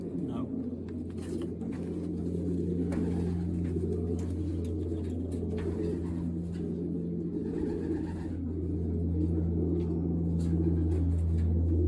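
Racing pigeons coo softly in a loft under a steady low hum and rumble, with occasional wing flutters and shuffling, while people talk nearby.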